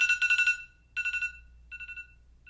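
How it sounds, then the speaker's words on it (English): A phone alarm set to be as grating as possible: bursts of rapid, shrill electronic beeping that repeat in short pulsing clusters, loud and close, with brief gaps between the bursts and no voices. "I set the most annoying alarm I can."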